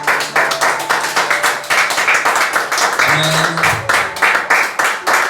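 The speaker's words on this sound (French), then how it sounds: "Acclame fortement pour le Seigneur." A church congregation claps and applauds for the Lord, producing loud, dense, rhythmic clapping throughout, with a brief voice calling out partway through.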